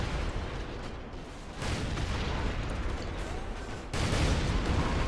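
Gunfire from a Black Bear unit in the real-time strategy game Rise of the Reds: a dense, continuous wash of battle shots and blasts that swells louder in bursts, with no talk over it.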